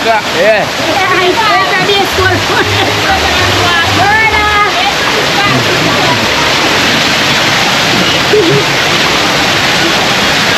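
Rushing water of a river waterfall, with two falls, along the Palmy River, a steady broadband roar filling the whole clip while people talk over it and birdlike calls rise in places.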